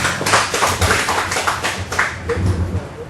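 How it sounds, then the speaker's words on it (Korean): Congregation at a church Bible study clapping together, a dense patter of many hands with a low murmur beneath, fairly close and steady for a few seconds. "박수 좀 해주세요."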